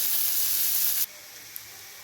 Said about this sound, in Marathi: त्याच कढईमध्ये आता मी कांदा भाजून घेते